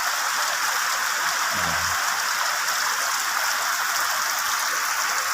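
Steady broadband hiss of rain falling, loud and unbroken throughout, with a brief low thump partway through.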